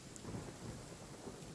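Rain pours steadily with a low rumble of thunder in the Genshin Impact video game, a continuous soft wash of rainfall heard alone without voices.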